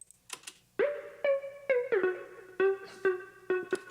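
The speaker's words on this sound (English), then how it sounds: "And then finally some ping pong delay." A bright synth lead plays a run of sharp, separate notes with stacked harmonics, each tail echoing in a ping-pong delay over vintage-style reverb, loud and alone in an upbeat future rave production.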